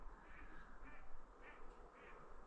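Ducks quack near a homemade chicken tractor, four evenly spaced quacks sounding faint and distant over a low background rumble, with no talking.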